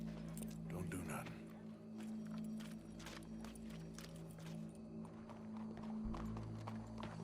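Horse hooves clip-clopping in the video game Red Dead Redemption, a steady walking rhythm under ambient game sound and people talking.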